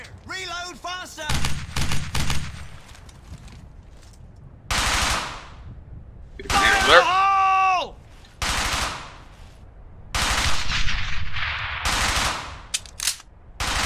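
Gunfire in the World War II shooter Brothers in Arms: Hell's Highway, loud bursts of machine-gun and rifle fire that come in several separate volleys, with shouted voices breaking in between them.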